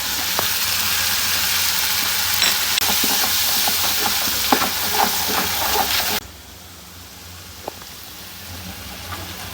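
Ground turmeric, chili and coriander fry in hot oil for a dried churi fish curry, giving a loud, steady close-up sizzle with scattered crackles and stirring scrapes that drops sharply quieter about two-thirds through.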